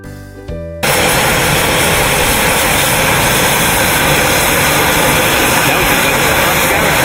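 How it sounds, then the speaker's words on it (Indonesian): A brief hum and click lead into a sudden loud, constant airplane engine roar, a dense high rush that holds steady to the end. "Pesawat balap."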